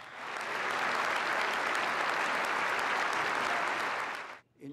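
Standing ovation from the assembly at the United Nations after Pope Benedict XVI's 2008 address: dense, sustained clapping that fills the hall, then fades and stops abruptly.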